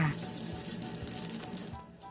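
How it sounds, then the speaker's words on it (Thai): Sausages sizzling and frying in a pan, a steady soft crackle with faint clinks of a utensil now and then. "เอาไส้กรอกไปทอดในกระทะเดียวกันเลยค่ะ"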